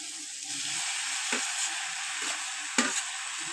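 Pasta gets stirred and mixed in a sizzling pan, a constant frying hiss broken by a few soft scraping strokes of a spoon, close by and with no voices.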